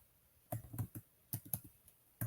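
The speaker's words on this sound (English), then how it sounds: "Oh, you typing." Fingers tap quietly on a computer keyboard in small irregular clusters of clicks, faint and close, with no talking.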